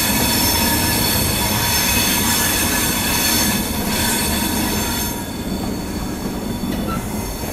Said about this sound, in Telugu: తిరుపతి నుండి పూరి వెళ్ళే పూరి ఎక్స్ప్రెస్ ఇప్పుడే గుడివాడ జంక్షన్ నుండి